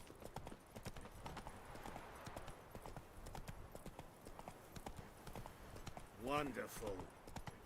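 Hooves of Roach, Geralt's horse in The Witcher 3, clatter in a quick steady clip-clop rhythm, with a brief voice and a short tonal call near the end.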